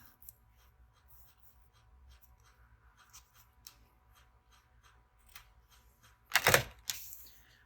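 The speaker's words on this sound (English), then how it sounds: "All right, now for the lace. I'm going to cut one piece" Scissors cut a piece of lace for a journal cover: faint small rustles and ticks, then a sharp, close double snip near the end, with no talk.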